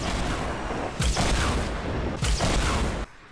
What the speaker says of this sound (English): So many fucking rockets